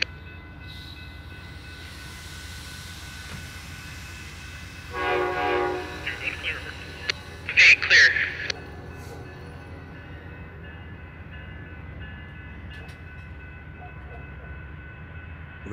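Amtrak's California Zephyr passenger train number 6 leaves Fort Morgan, Colorado, running about two hours late. A steady rail rumble carries throughout, and a few loud horn blasts sound midway before the noise settles back to a low roll.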